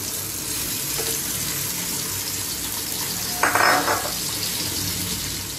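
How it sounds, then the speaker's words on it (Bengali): Sliced potatoes fry in hot oil with a constant low sizzle. A short, brighter burst of crackling rises partway through and then settles back to the even frying hiss. No one talks. "স্লাইস করে কেটে রাখা আলুগুলোকে আমি ভেজে নেব একটু হালকা করে।"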